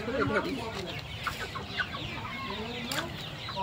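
A chicken clucks repeatedly nearby in short, uneven bursts, with a person's voice mixed in.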